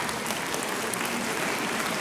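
Sustained applause from a live television opera-singing competition audience, a dense, even wash of many hands clapping at full strength throughout, with no talking over it.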